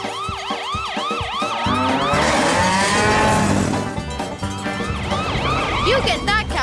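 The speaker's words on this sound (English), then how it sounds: "Chase, your siren." A wailing siren rises and falls rapidly and loudly, overlapping with cattle mooing and other busy sounds, all close and continuous.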